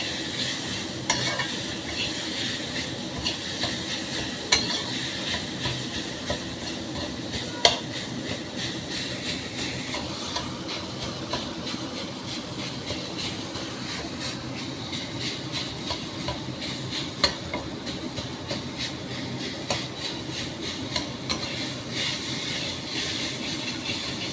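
Amla chutney with beet salt and a little white salt is stirred in a pan, a continuous close sizzle and scraping with a few sharper knocks of the spoon and no talking.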